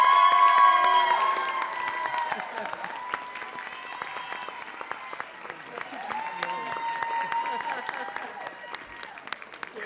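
A school cheering squad at a board of education meeting applauds and cheers, a dense burst of clapping with shouts that eases into lighter scattered applause under a voice.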